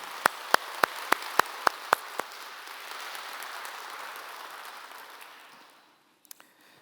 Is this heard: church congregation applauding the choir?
yes